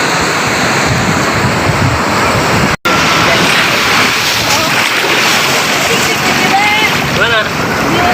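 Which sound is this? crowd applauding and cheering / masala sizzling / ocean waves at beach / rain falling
ocean waves at beach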